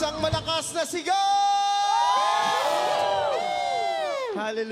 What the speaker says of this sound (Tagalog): Isang malakas na sigaw!